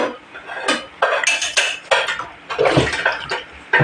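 Dishes and cutlery being washed by hand in a home, with repeated clinks and clatters of plates and utensils against running water in an irregular rhythm.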